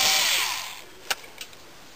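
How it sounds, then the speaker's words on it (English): Cordless lithium-ion battery drill driving out screws: a loud broadband whir at the start fades away over the first second, followed by two brief clicks, with no talking. "a whole slew of screws later and a lithium ion battery equipped drill"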